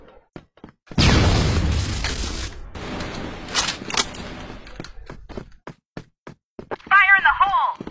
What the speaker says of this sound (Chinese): 手雷来了！